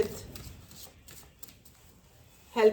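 Tarot cards shuffled for a clarification reading, soft quick riffling and flicking of cards close by, quiet and scattered, ending in a brief louder rustle.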